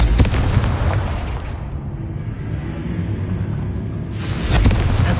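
A Confringo fire spell cast in Hogwarts Legacy, a loud rumbling explosive burst at the start that rolls into a sustained low roar, then a second heavy blast swelling near the end.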